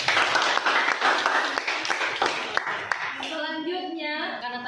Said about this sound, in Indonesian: Mari kita beri aplaus buat kita.